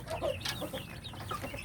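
Village chickens inside a brooder box cluck and peep softly and steadily, several birds overlapping close by with no talk.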